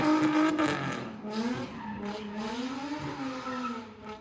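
A drift car spins out, its engine wailing up and down while the tires skid. It is faint and somewhat distant, with no talk over it.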